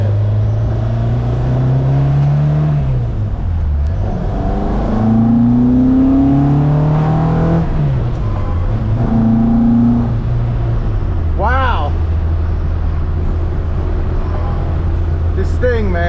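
A Ford Mk1 Escort rally car engine revs loud and close, pitch climbing and falling through repeated throttle blips with a steady idle between, while people talk over it inside the car.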